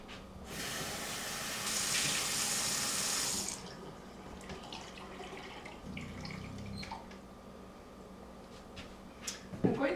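Tap water runs into a blender for homemade almond milk, a steady gush lasting a few seconds, followed by quieter kitchen handling, a low thud and some clatter near the end.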